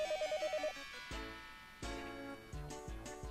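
A telephone gives a short electronic trill of rapid repeated ring pulses, then music with sharp accented hits takes over.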